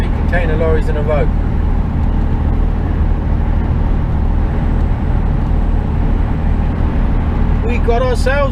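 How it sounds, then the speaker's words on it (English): Heavy lorries of an HGV convoy rolling along a UK road, a loud constant engine and tyre roar heard from inside a cab, with a person talking over the rumble at the start and end. "We got ourselves a convoy."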